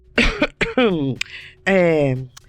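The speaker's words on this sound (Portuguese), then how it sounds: "nosso protagonista finge uma tosse e diz" A fake cough and throat clearing, a few short rough bursts followed by drawn-out voiced throat sounds, close and fairly loud, performed by a voice.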